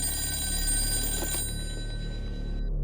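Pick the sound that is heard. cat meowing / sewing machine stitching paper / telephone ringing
telephone ringing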